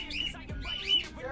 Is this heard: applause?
no